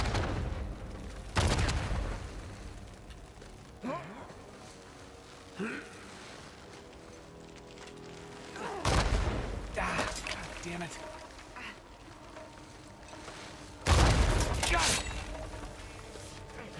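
Gunshots aimed at a rope in Uncharted 4, a few sharp, loud reports spaced several seconds apart, with a strong blast near the start, another around the middle and a final one near the end, under ongoing speech and gasps.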